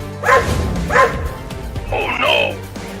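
Two dogs barking and yipping in short bursts close by, overlapping with people talking throughout.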